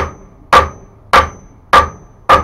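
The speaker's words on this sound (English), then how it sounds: "now I'm pulling towards me with the hammer" A hammer strikes hot iron four times at a steady, unhurried pace while forging a tomahawk eye, each blow a sharp, loud ringing clang that decays between strikes.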